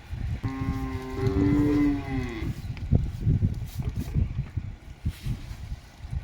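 A desi cow moos once in a long, loud, drawn-out call up close, followed by lower rustling and shuffling sounds of a livestock setting during live milking.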